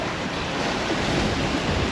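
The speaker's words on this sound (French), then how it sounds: "Le vent forcit un petit peu à l'arrivée, là on a un petit 20 nœuds de vent" Wind at sea of about 20 knots off southern Naxos while sailing, heard as a steady broadband rush of wind and surf with buffeting on the microphone and no voices.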